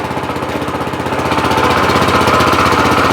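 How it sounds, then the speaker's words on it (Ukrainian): A walk-behind tractor engine chugs in fast, even pulses as it pulls away in first gear, growing louder and rougher partway through, close by with no talk. "Вижимаю щеплення, вмикаю першу швидкість і і побіг за ним."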